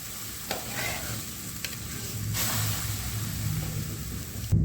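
Palm fruit batter hits a hot wok and fries with a steady, close sizzle and crackle that runs throughout, with a few brief clatters of the utensil.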